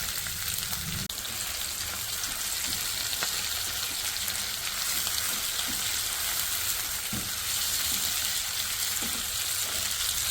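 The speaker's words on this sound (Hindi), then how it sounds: "प्याज नरम हो जाए, टमाटर नरम हो जाए, ठीक है, बस इतना फ्राई करना है।" Onions and tomatoes fry in a pan while softening for a methi egg curry, giving a steady close sizzle with occasional faint clicks of stirring.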